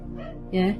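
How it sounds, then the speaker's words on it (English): A pet dog gives a short bark or yip indoors, faint and somewhat distant, under a person's quiet speech. "I think he's barking at the postman or something."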